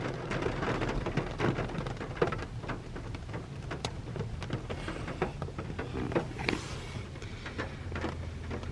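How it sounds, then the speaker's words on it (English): Heavy rain pours down steadily with rumbling thunder rolling through it during an approaching storm, loud and continuous with no voices. "It was thunder."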